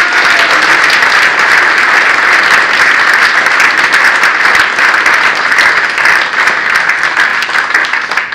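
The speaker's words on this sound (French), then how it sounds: "Nous pouvons néanmoins, si vous en êtes d'accord, l'applaudir pour l'encourager dans ses nouvelles fonctions." Dense, loud applause from a crowd at a mayor's New Year address to the residents of a French town, sustained and even throughout with no pauses.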